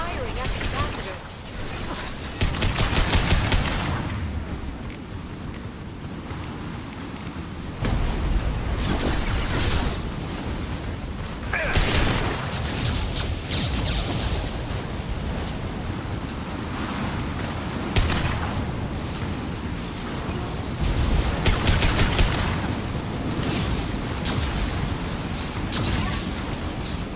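Gunfire and booming blasts from a Mass Effect 2 firefight repeat in loud bursts over a long stretch. Voices come and go under the heavy combat noise.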